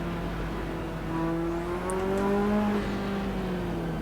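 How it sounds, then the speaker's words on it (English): Brake squeal from a race car in the racing game Assetto Corsa, a steady high whine and engine drone from the cockpit lasting several seconds, with a faint brief squeak rising over the continuous car noise. "Oh look, brake squeal."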